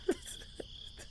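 Crickets chirp at night in a faint, steady high trill, with a few soft, short rustles mixed in.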